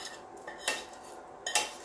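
Eel and onion stirred in a pot with pumpkin, a utensil knocking and scraping the pot in two brief close clinks about a second apart against a quiet background.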